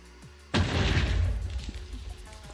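A sudden loud blast from a powerful TNT explosion in Minecraft, a single booming burst followed by a long rumbling, crackling decay of debris over about two seconds.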